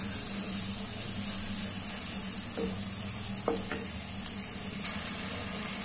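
Masala with red chilies fries in a pan for moringa chicken, a steady close sizzle and hiss with a few light scrapes and clinks of stirring.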